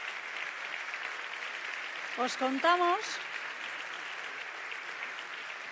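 Steady audience applause fills a sports awards ceremony hall, a dense, even wash of clapping that carries on throughout while a presenter briefly speaks over it.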